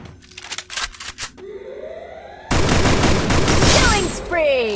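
Video game gunfire in a battle royale squad match: quick bursts of shots at first, then a dense, loud stretch of rapid fire with sharp rising and falling tones layered on top.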